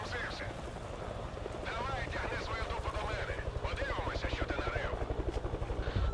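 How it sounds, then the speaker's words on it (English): A helicopter's rotor chops steadily and grows louder and more pulsing over the clip, under a person's talking. "Why am I hearing helicopter sounds?"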